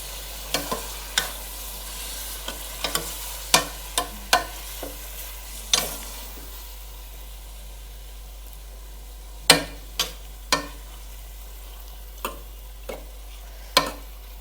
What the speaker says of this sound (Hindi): मैंने चिकन शामिल कर दिया है पैन में। इसको मिक्स करते हैं सब इंग्रेडिएंट्स को।